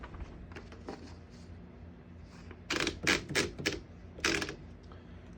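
A 1909 Remington No.12 antique desktop typewriter clacks through a quick run of sharp keystrokes after soft mechanical shuffling, fairly close and alone.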